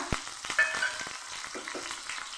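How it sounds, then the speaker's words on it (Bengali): Crushed garlic and whole dried red chillies fry in mustard oil, making a short, close, crackling sizzle with a few sharp pops and stirring scrapes. "আমি রসুন লঙ্কা ভালো করে ভেজে নেব"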